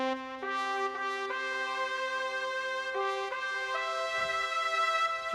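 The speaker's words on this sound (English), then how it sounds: "when Jim designed that sound, that horn sound, he actually gave it sustain and a lot of reverb so the sound carries" A horn voice on a Lowrey touchscreen organ plays Taps as a slow series of held, bright brass-like notes. Each note carries long sustain and reverb, and the melody is clear and steady with no talking.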